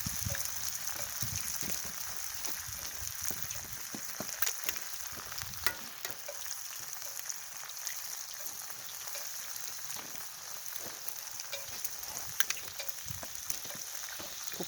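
Bacon, eggs and hash browns sizzle and crackle in a pan over an open fire, a continuous close frying hiss dotted with sharp pops, with no talking.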